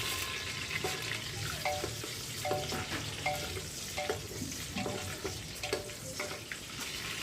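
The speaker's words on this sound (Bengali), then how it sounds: "ডিমগুলো ভেজে তুলে নিলাম" Eggs fry in hot oil with salt, turmeric and dried red chillies, giving a continuous, moderate sizzle with occasional light clinks and stirring scrapes.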